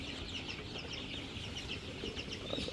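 Breeder hens clucking in a farm shed, a busy flock of soft overlapping clucks and calls, fairly faint against a steady background hum.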